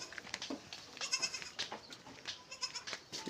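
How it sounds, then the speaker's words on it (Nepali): Goats on a goat farm bleat repeatedly, several calls overlapping and rising over one another at close to medium distance, with no one talking. "यही बाख्राको फर्म"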